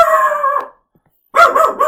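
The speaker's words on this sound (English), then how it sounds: "so sorry about the barking" A dog lets out two loud, drawn-out barks close by, almost howling, separated by a brief silence.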